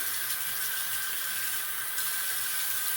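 A bathroom tap runs steadily while someone rinses soap off their face, a constant close hiss of flowing water with no speech.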